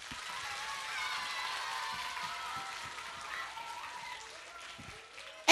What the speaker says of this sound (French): Ils vont s'applaudir très fort.